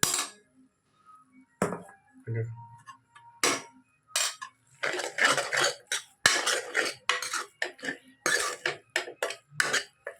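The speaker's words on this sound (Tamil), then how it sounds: "சோத்தை வந்து தேவையான அளவு சோறை உள்ள போட்டு கிண்டிடுவோம்" Cooked rice being stirred into a tomato and egg mixture in a metal pan for tomato rice, heard as close, loud, rhythmic scraping and clinking of a spoon against the pan in quick bursts, without speech.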